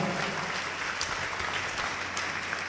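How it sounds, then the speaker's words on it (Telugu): A church congregation claps loudly during a sermon, dense continuous applause from many hands at moderate distance, with no talk over it. "గట్టిగా చప్పట్లు కొట్టాడు"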